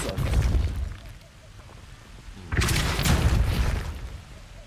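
Depulso force spell cast in the Hogwarts Legacy video game, a loud booming magical blast with a rumbling tail, followed by a second heavier burst, all overlaid with a voice speaking.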